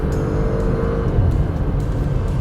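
A 2019 Porsche Macan S with 335 horsepower and a 7-speed PDK transmission accelerates hard at full throttle. The engine's steady, loud roar holds for the whole stretch, with no voices over it.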